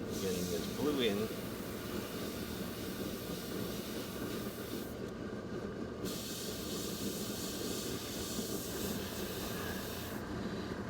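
An airbrush sprays blue paint onto a bird model in a steady, continuous hiss that runs the whole time, with a brief pause near the middle, while a person talks over it.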